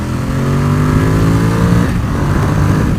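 A 2019 Ducati XDiavel motorcycle engine revs on a dyno, a loud, steady, throaty drone with a strong low growl that rises and then shifts pitch near the end, with no voices.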